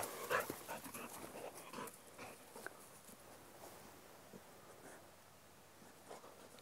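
Dog panting and moving about, soft quick breaths and shuffling, scraping movement noises heard close but faint, with a brief sharper squeak near the start and no speech.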